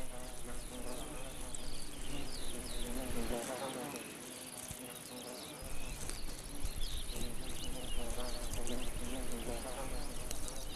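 Hoverflies feeding in an alpine meadow, overlapping buzzing from several insects close by with shifting whines, over a steady outdoor background, with a short quieter gap midway.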